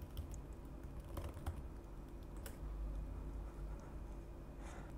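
Typing on a Mac computer keyboard to enter a username and password, with scattered soft keystroke clicks in irregular bursts over a low room hum, faint and close.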